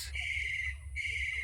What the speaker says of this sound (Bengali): পেঁচার আওয়াজ শুনো